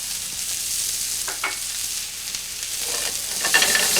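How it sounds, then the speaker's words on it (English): Onions sautéing in heated oil give a steady, close sizzle that builds slightly toward the end, with a few faint stirring clinks and no voices. "You saute the onions in heated oil."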